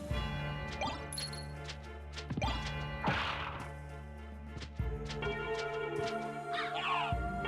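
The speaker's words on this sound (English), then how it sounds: "Bird!" A bird caws in a Castlevania-style game over looping music, with sharp whacks and crashes from combat scattered around it.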